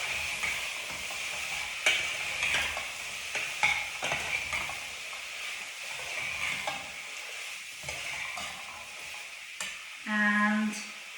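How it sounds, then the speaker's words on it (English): Carrots being stirred into soup in a pot, a low bubbling simmer with repeated spoon knocks and scrapes, ending in a brief tonal clatter. "In with the carrots. Another good stir."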